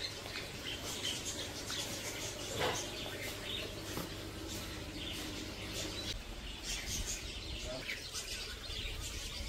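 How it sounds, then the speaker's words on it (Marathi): Many colourful birds in an aviary give a steady chorus of chirps and tweets, layered over dense, noisy ambience with occasional squawks. "भरपूर पक्षी, एकदम कलरफुल बर्ड्स आहेत."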